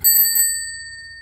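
A bicycle bell newly mounted on a bike rings in a quick double ding, loud and close, then a clear metallic tone lingers and fades.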